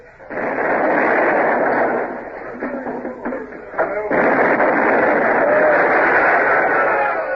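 Carronades on a sailing warship fire a heavy broadside in a radio drama, a long, loud, rumbling roar of cannon blasts that fills the scene, with shouted voices in the middle.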